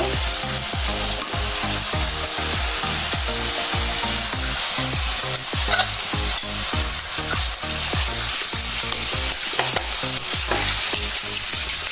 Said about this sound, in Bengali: এখন আলুগুলোকে দিয়ে দিব।